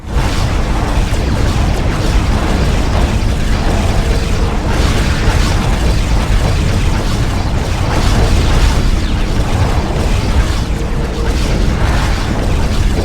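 Star Trek: Klingon Academy space combat brings a dense, loud, continuous wash of weapons fire and rumbling explosions, heavy low booms layered without a break.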